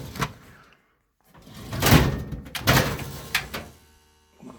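A drawer in a workshop holding leather is pulled and pushed, giving rolling, scraping slides and a couple of knocks close by, separated by brief quiet gaps.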